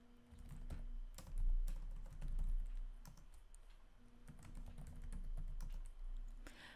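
Keys clatter on a computer keyboard while data is entered into a spreadsheet, in quick close bursts of clicks and taps with short pauses between, including heavier key presses, and no voice.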